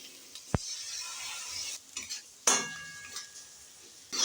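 Spice paste of turmeric and Kashmiri chili powder mixed with water hits a hot pan for a dried fish and eggplant curry, giving a sharp clank, then soft sizzling and stirring scrapes with a few utensil knocks, close and alone.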